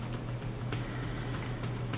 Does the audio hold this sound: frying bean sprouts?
no